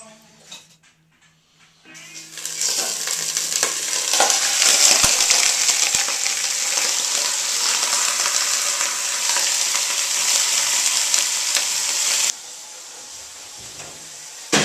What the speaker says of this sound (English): The oven's nice and hot, and the oil's preheated, so it's going to sizzle.